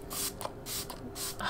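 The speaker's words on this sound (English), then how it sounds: "And let's just spray my face." Fix Plus setting spray misted onto a face, several short close hissing bursts of aerosol-like spray separated by brief pauses, with no speech over them.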